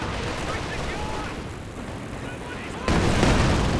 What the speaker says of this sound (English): Incendiary artillery down.